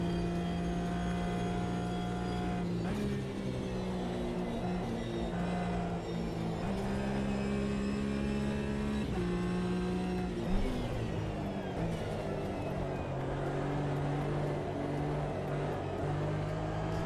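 A race car engine in the sim racing game Automobilista 2 drones steadily with a strong harmonic tone, its pitch stepping up and dropping at gear changes several times, continuous and even in level.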